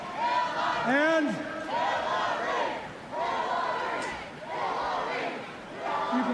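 Election night crowd cheering and roaring for a speaker in 1992, a loud, sustained mass of voices with shouted yells rising and falling in waves throughout.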